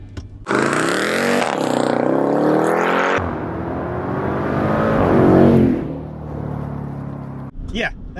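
A supercharged 2018 Jeep Trackhawk launches with launch control from 0 to 60, the engine snarling loud and climbing through rising revs with a sharp gear change, then easing off with a brief whoosh at the end.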